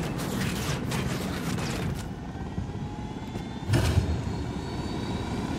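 A steady mechanical rotor drone of a helicopter engine in the video game Ghost Recon Wildlands hums throughout, with a brief louder whoosh partway through; no one speaks.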